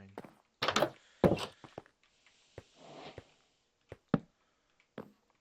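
Wooden doors placed one after another in a block-building video game, heard as a series of short hollow thunks, some quick in pairs, spaced unevenly over a few seconds with quiet gaps between.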